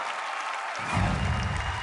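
Theater audience at Radio City breaking into applause for a talent show act, a soft hiss that suddenly swells into dense, loud clapping from a large crowd.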